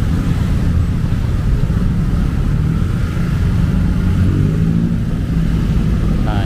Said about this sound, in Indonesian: macet ya kendaraannya.